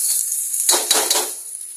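Garlic frying until golden brown gives a steady soft hiss, with a louder crackling sizzle surging for about half a second near the middle before settling back. Nobody speaks.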